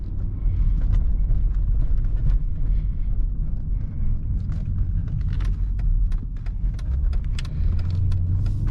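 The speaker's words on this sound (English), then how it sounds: "Let's see how this S-Class can handle the worst road in Merrimack." A 2012 Mercedes-Benz S550 with air suspension rolls over a badly broken road in Merrimack, a low steady rumble of tires and cabin with scattered small knocks and rattles throughout.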